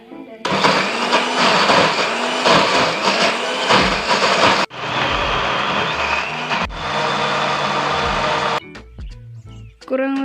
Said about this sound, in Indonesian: kurang lebih setelah di blender selama 30 detik, hasilnya seperti ini.